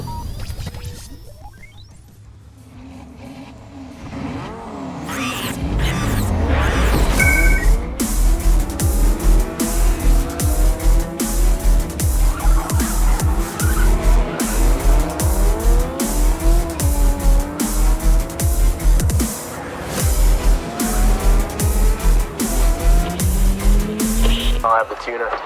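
Diecast race cars in an underground street-race tournament, with roaring engines and long, repeated tire squeals and skids that rise and fall, loud and continuous, with brief impacts mixed in.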